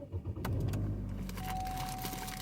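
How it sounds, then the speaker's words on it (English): A car is switched on while parked: a brief starter crank and rumble give way to a steady low engine idle, heard close from inside the cabin, with no talking. "I'm going to have to turn the car on."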